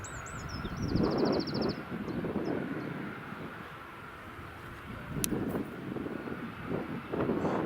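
A WestJet Boeing 787 Dreamliner taxiing at Edinburgh Airport gives off a distant, steady engine roar mixed with gusty wind on the microphone, rising and falling gently, with a faint chirping tone early on.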